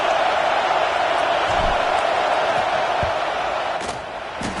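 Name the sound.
football stadium crowd noise before a field goal kick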